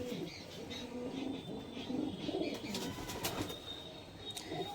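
A Shahjahanpuri desi pigeon coos softly and repeatedly while held in hand at a pigeon sale in Nabadwip, the low murmuring coos steady under faint background chirps.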